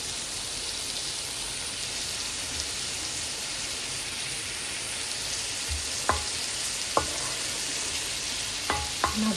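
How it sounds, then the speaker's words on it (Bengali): Fried rohu fish pieces stirred with masala, flat beans, potato and tomato in a frying pan, a steady close sizzle with a few sharp spatula knocks against the pan toward the end, no voices. "মাছগুলো একটু কষাবো, তারপরে একটু ঝোল দিয়ে দেবো।"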